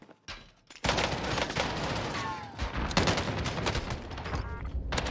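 Rapid automatic fire from an FFAR rifle in the video game Call of Duty on Rebirth Island, a loud sustained burst after a brief quiet start, with other game effects mixed in.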